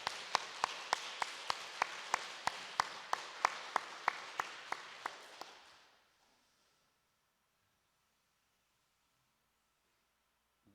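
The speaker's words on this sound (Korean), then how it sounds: "우리 많은 성도님들 서로 격려하는 마음으로 박수로 하나님께 영광 돌려드리도록 하겠습니다" A church congregation at a Sunday afternoon service claps, loud rhythmic hands in sharp regular beats filling the hall for about six seconds before the room falls silent.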